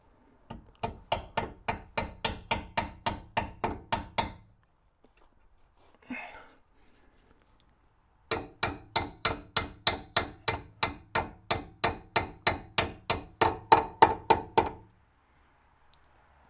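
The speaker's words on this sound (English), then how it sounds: "You may need to get out the hammer again." Hammer tapping a clip onto a Saab 9-3 front strut bracket during suspension work: two long runs of rapid, evenly spaced metallic taps, about fifteen to twenty each, separated by a pause with one faint knock.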